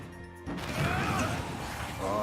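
Forward smash attack landing in a Super Smash Bros. Melee-style match against Roy, a sudden crashing hit after a quieter moment, followed by a busy wash of game effects and crowd noise with commentary underneath.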